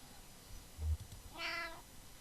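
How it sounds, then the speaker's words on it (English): A single brief cat meow from the video game Kentucky Route Zero, heard once midway through a quiet clip with a low thump just before it. "Fanciful meow."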